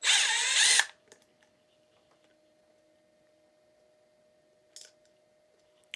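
A cordless screwdriver or drill whirs briefly as it loosens a Torx T15 screw on a FLEX 24V polisher, a single loud burst at the start followed by near silence and a couple of faint clicks.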